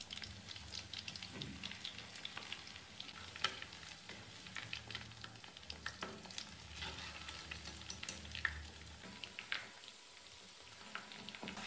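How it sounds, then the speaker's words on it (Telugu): Batter-dipped chicken lollipops deep-fry in oil, a soft, steady bubbling sizzle with frequent small crackles and pops throughout. "మన లాలీపాప్స్ని ఈ పిండిలో బాగా ముంచి ఆయిల్లో వేసి ఫ్రై చేసుకోవాలి."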